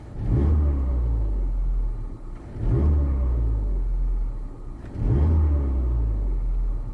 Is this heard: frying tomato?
no